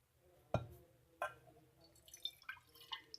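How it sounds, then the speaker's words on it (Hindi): Water goes into a cooking pan in a home kitchen: two distinct splashes land close by, followed by a scatter of small drips and trickles, all quiet. "सबसे पहले हम जो हमारा पानी है मैं उसको एक पैन में डाल लेती हूँ।"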